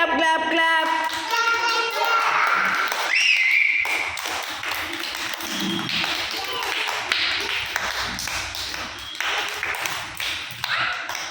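Children at a day care clap their hands in a quick string of sharp taps, mixed with singing and chatter, loud and close.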